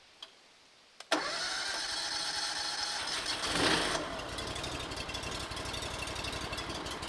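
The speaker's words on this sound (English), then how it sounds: "I really like this Honda engine because it's very quiet" A quiet Honda gasoline engine powering a sawmill kicks on after a brief quiet moment and settles into a steady, fairly loud running drone that continues to the end.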